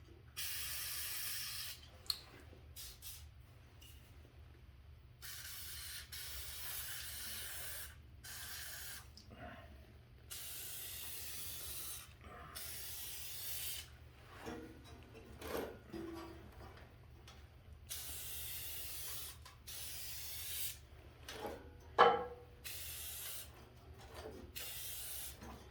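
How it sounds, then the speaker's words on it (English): Aerosol can spraying lubricant onto 1970s Moto Mower snowthrower parts in repeated hissing bursts of varying length, close and sharp, separated by quiet handling clicks and rattles. "I don't like to spray upside down."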